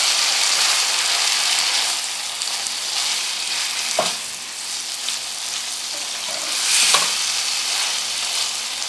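Chicken pieces sizzling and frying with masala and water in a pan for a desi chicken mutabbaq filling, a steady loud crackle with a couple of stirring scrapes, no voices.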